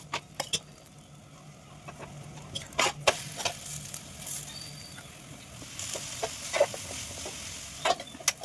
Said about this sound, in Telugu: ప్లేట్స్ ఆయిల్ వేసుకొని చపాతీ కాల్చుకుందాము.